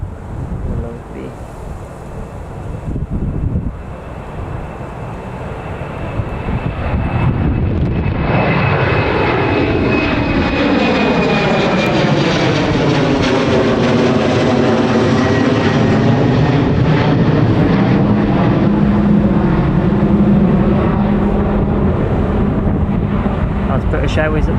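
An airliner takes off at Newcastle Airport, its jet engines swelling into a loud, sustained roar that sweeps past and slowly shifts in pitch, with a voice speaking faintly early on.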